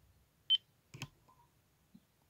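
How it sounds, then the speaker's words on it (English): A single short, high electronic beep from a Jeti radio transmitter's center switch sounds once, followed by a faint click and a couple of soft ticks in near silence. "There's the center beep and it's switched on."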